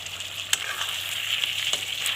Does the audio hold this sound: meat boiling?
yes